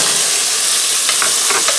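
Bacon sizzles loudly in a hot pan, a steady bright frying hiss filling the whole stretch with a few sharper crackles near the end; no one speaks.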